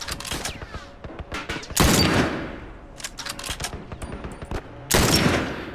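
Gunfire in The Last of Us against hunters and their Humvee, a rapid run of sharp shots with two louder, heavier blasts that ring out and decay, close and loud with no talk over it.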